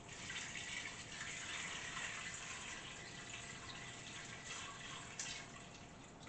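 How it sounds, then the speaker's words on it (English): Water runs steadily into a cooking pot for soup beans, a constant hissing pour at close range with no talking. "I'm going to go ahead and add my water."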